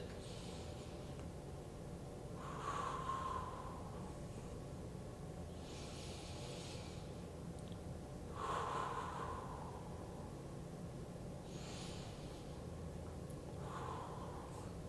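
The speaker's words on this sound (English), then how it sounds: "take some nice deep breaths behind that brace" Slow, deep breaths during a core bracing exercise, with three or four loud airy inhales and exhales spaced evenly, close up over a low steady background hum.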